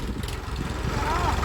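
A tractor engine idles in a farm field with a low, steady rumble, heard close while a voice talks over it.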